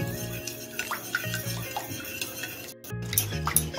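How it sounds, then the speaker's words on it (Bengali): A spoon stirs sugar into cooled, previously boiled milk for an eggless semolina cake, giving close, steady clinks and scrapes against the bowl over a faint tonal background hum. "এখন দুধের সঙ্গে আমি চিনিটাকে একটা চামচের সাহায্যে মিশিয়ে নিব।"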